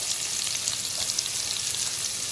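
Finely chopped onions sizzling in a pan while being sautéed for a banana flower stir-fry, a dense steady hiss with faint stirring scrapes, close and continuous, no voices.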